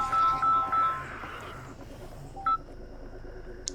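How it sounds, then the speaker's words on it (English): A mobile phone ringtone goes off during a gaming session, a short melodic run of bright tones for about a second and a half, then fading under background game sound with one brief beep later. "Oh, now my phone's ringing."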